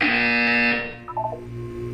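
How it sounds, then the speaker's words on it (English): A harsh electronic buzzer from the video game Portal 2 blares steadily for under a second, then a short rising run of electronic beeps follows over a faint hum. "When you hear the buzzer, look up at the ceiling."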